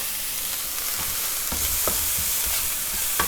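Onions with a pinch of salt sweating in a pan, a steady soft sizzle running throughout, with a few light scrapes and stirs of a utensil breaking through near and alone.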